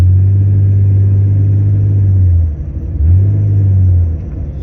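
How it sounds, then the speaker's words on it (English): A 2000 Jeep Cherokee XJ 4.0L engine idles with an open exhaust, giving a loud, deep, close rumble that dips briefly, picks up again and then fades slightly toward the end. "I like the nice rumble of it, but I like for an open exhaust because then it allows me to hear how the engine sounds"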